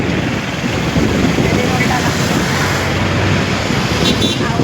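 Heading for the railway station in Chhatrapati Sambhajinagar, a car carries passengers along a road, its interior filled with a dense, steady roar of engine, tyre and traffic noise.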